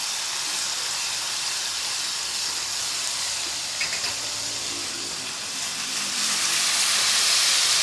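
Chili jam sizzles in a hot pan over turned-up heat for a prawn puri dish, a steady close hiss that swells slightly toward the end, with no voices.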